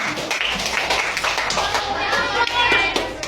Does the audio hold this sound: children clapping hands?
yes